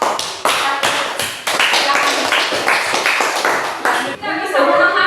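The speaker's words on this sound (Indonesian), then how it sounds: "Tepuk tangan dulu untuk kelompok" A classroom group in an Indonesian teacher-training session claps in bursts, sharp, close and loud hand claps coming in quick rhythmic clusters separated by short breaks, with voices in the background.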